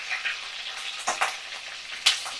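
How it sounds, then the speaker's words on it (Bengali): Prawns skewered on sticks fry in a pan until reddened, giving a steady close sizzle with a few sharper crackling bursts and spatters, and no voices. "তো সুন্দর করে লাল লাল করে আমি চিংড়ি মাছগুলোকে ভাজা করে নিচ্ছি।"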